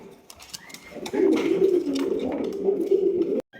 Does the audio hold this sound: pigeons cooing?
yes